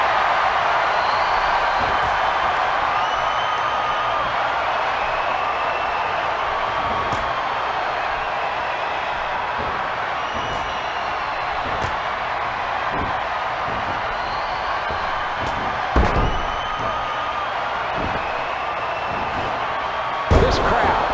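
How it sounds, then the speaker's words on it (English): Steady roar of an arena crowd cheering in the wrestling video game WWE 2K14, a continuous loud wash of noise with a few sharp impacts near the end. "This crowd cheering for both men are deafening with their support"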